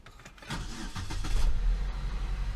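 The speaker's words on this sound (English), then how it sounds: "let's start the car at the moment." A 2007 Saab 9-3 1.8t cranking and starting, a few rhythmic starter clicks followed by the engine catching and settling into a low, rumbling idle up close.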